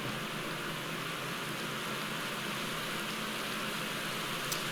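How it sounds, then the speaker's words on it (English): Steady rain hisses across a road in the cycling game Pro Cycling Manager 2020, a dense, even wash of noise with no talk over it. "It's a rainy day here on the road."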